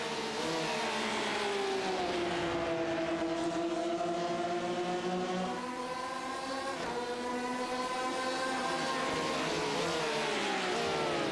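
Race cars roar along a track in a continuous loud engine drone, pitch rising and falling as cars close in on the final laps, with no voices.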